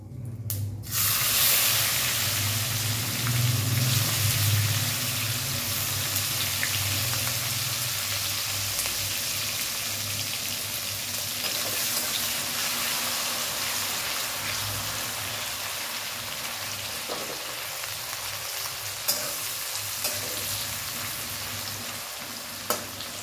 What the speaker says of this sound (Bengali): পেঁয়াজটা লাল লাল করে ভাজা হোক।